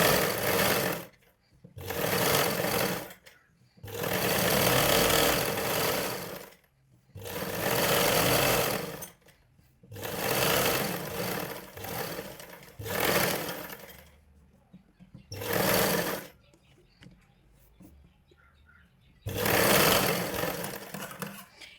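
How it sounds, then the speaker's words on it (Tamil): An electric sewing machine stitches a blouse in repeated bursts, each run of rapid mechanical whirring lasting one to three seconds, separated by short pauses, close and fairly loud. "இப்போ இந்த மாதிரி தையல் போட்டதுக்கப்புறம் அதே மாதிரி சுற்றி வந்து நம்ம தையல் போடலாம்"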